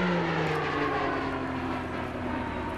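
A Pilatus PC-21 turboprop trainer flies a display at an air show, its engine and propeller drone steady and fairly loud with slowly shifting tones throughout.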